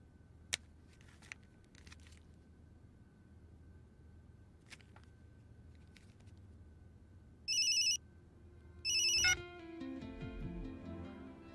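A telephone ringing in a quiet night-time room in a Hindi film, two short bursts of electronic ringtone a second apart after a few faint clicks, followed by a low murmur.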